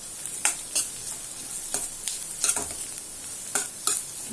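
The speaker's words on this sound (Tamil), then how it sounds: "இப்போ இது வெங்காயம் மட்டும் நல்லா வதங்கட்டும்" Onions softening in a pan for a radish relish, a soft steady sizzle broken by repeated sharp scrapes of a spatula against the pan, close and alone without any talking.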